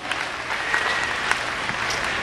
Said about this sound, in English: Certainly want to give them a round of applause.